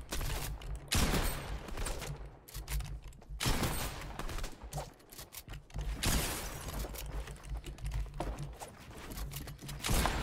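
Gunfire in Fortnite Chapter 2, where a sniper rifle is in play, comes as several loud, sharp shots spaced a few seconds apart, each with a short ringing tail, with no talking.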